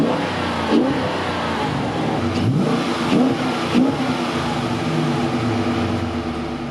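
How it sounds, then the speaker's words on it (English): A 2020 Dodge Challenger R/T Scat Pack Widebody Shaker 50th Anniversary edition revs its large V8 several times, each rising blip swelling from a rumbling idle, close and loud, with the engine drone underneath throughout. "when you're revving the massive V8 engine, the hood scoop does shake as the name implies"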